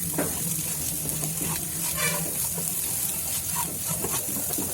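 Egg being stirred as it fries in a hot pan, a steady sizzle with soft scraping strokes throughout, close and fairly loud with no voices.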